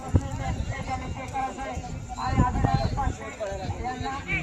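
Bulls bolting off to the side during a bullock cart race at an open ground, with thudding, hoof-like clatter running under loud, continuous commentary and crowd voices.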